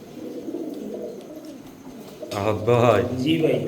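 Pankhi breed pigeons at a bird market coo softly and repeatedly nearby, with a voice talking over them in the second half.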